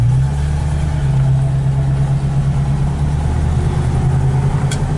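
A 1964 Chevrolet Nova SS engine drones loud and close from inside the car, a steady low hum with a faint rise in pitch under light acceleration on a test drive.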